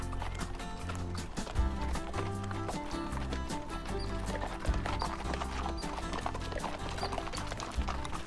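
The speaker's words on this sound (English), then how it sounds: "My horse Bailey was definitely faster coming down the mountain than going up." Horse hooves clop steadily in a rhythmic walking pattern down a mountain trail at Lake Louise, near and continuous, with scraping steps over uneven ground.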